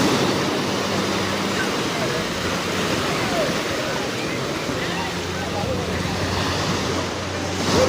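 Sea waves wash continuously along the beach at Cox's Bazar, a broad steady roar of surf mixed with wind buffeting the microphone, while people talk faintly nearby.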